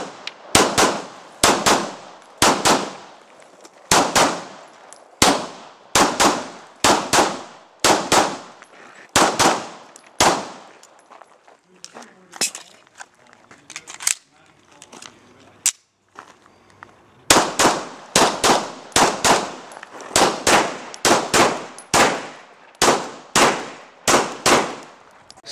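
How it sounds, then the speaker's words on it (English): Gunshots fired in rapid strings on a shooting range stage, sharp loud cracks in regular bursts, a quieter pause in the middle, then another fast volley. "if you're ready, commence firing"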